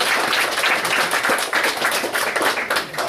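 Audience applause and cheering fill a public meeting about school buses, a steady dense wash of clapping from a crowd close by, lasting throughout with no talk.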